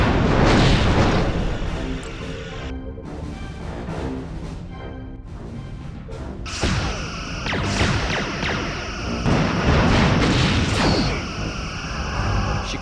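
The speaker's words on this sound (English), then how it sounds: "They're firing on us." Starship weapons fire and explosions in the Star Trek: Bridge Commander game as a cloaked Romulan warbird attacks, with loud booming blasts, whooshes and crashing impacts over a continuous dense rumble.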